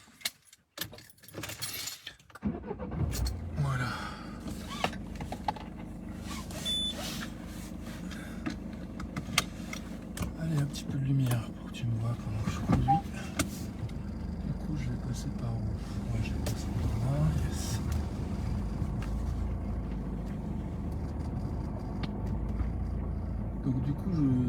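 Keys jangle briefly before a car engine starts and settles into a steady running drone as the vehicle drives off, with a person speaking over it.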